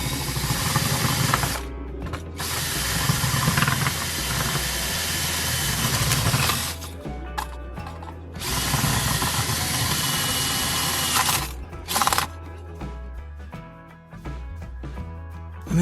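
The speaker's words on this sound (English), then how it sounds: "The tool of choice will be my drill." A power drill cutting away a plastic piece runs in two long loud bursts of harsh whirring and grinding, close up, separated by brief pauses and followed by quieter stop-start buzzing.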